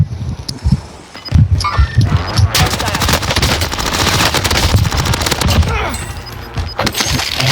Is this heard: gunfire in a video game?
yes